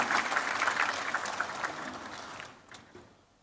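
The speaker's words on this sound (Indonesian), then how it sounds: "Khususnya tepuk tangan untuk para narasumber yang hebat-hebat sudah datang di tengah kita semua." Applause from an audience at a political gathering, broad and steady clapping that tapers off near the end, heard alone without talk.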